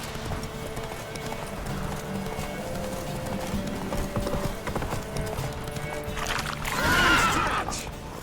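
A horse gallops in The Witcher 3: Wild Hunt video game, steady rhythmic hoofbeats close by with a neigh rising near the end, over ambient game sound and no talk.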